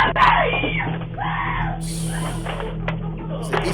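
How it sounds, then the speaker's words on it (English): A family screams from inside a home, caught on a doorbell camera: several shrill, wavering cries in short bursts, somewhat distant and muffled over a low steady hum. "the rest of the footage consists of the chilling screams coming from the family inside the home"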